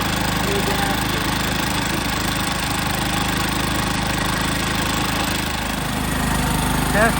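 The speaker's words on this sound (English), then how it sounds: "Testing the generator rebuild." A Harbor Freight Predator generator with a newly rebuilt piston, connecting rod and gaskets runs steadily close by, giving a continuous loud engine drone with a faint knocking texture that holds for the whole stretch.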